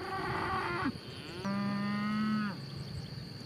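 Cattle moo in a field at close range, two long lowing calls one after another with a brief gap between them.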